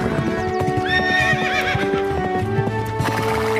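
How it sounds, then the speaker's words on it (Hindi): A hired Arabian horse gives steady clip-clop hoofbeats with neighs and whinnies layered on top, loud and close, with no voices present. "एक शानदार अरबी घोड़ा किराए पर ले आए"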